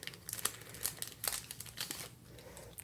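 Adhesive gems being peeled off their backing sheet for a greeting card kit, a run of close, soft crinkling and sticky tearing bursts, quiet and alone.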